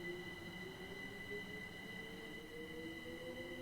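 A Class 379 electric train pulls away in Train Simulator Classic, with a steady electric motor whine, high sustained tones and rolling rumble from the track, continuous and close without speech.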